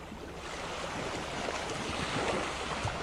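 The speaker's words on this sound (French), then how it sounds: "Et juste observer le son de l'océan," Ocean waves wash onto a beach in a steady, dense roar of surf, with continuous broadband hiss and no distinct breaks, alone with no voices.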